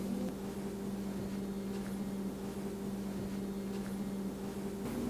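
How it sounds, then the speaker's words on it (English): A microwave oven runs while heating peanut brittle, giving off a steady low hum with a faint fan-like whir under it. The sound is continuous and fairly quiet, and no one speaks. "That goes back in the microwave for 2 minutes"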